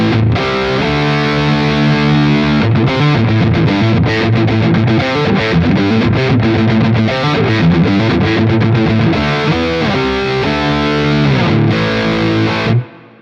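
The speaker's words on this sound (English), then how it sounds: "So a nice, real kind of beefy, gainy tone, but it's a little loose on the bottom end" Heavily distorted, high-gain electric guitar through a Quad Cortex plays chugging riffs and chords, beefy but slightly loose in the low end, loud and continuous, cutting off abruptly at the end.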